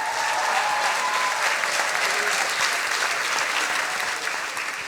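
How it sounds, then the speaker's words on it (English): Big applause from a science slam audience, loud dense clapping from a full crowd held steady for several seconds and easing slightly at the end. "Please a big applause for Alina Pushkarev."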